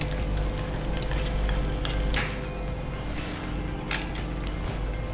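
Grated dry coconut frying in a pan for sweet pongal, giving a steady close sizzle with faint scraping stirs through it.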